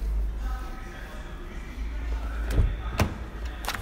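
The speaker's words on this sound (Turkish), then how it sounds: "Kapı sesleri toklaşmış." A 2022 Honda Civic ECO Premium with LPG has its door shut in two solid, close thumps about half a second apart, over a low background rumble.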